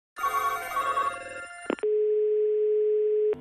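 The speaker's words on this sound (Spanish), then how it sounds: "qué, ruido tiene ese teléfono" Telephone line noise: a brief ringing tone cuts off with clicks, then a steady, loud continuous dial tone holds for over a second before clicking off.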